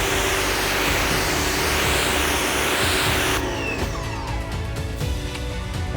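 A 4200 PSI electric pressure washer fitted with a 25-degree nozzle sprays with a loud, continuous hiss and roar. The tone shifts partway through as the jet strikes a surface, adding crackling spatter.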